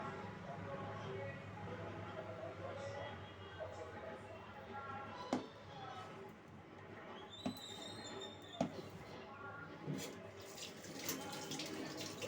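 Hands washed under a running kitchen tap while preparing sweet pithe, a soft steady stream of water with occasional clinks and splashes, faint and continuous, with someone speaking over it.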